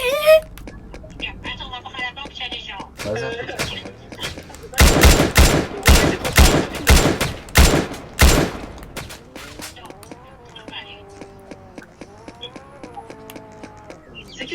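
Gunfire in a video game police roleplay: a rapid burst of loud shots fired in quick succession, with voices talking before and after the volley.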